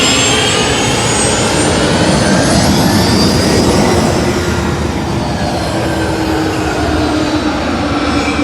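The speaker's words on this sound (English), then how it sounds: "I'm just going to give 1 second for this plane to come by" A jet airplane roars past overhead at the Pacific Airshow in Huntington Beach, a loud, steady, sustained rush with a slowly shifting whine that fills the whole stretch, with no talking.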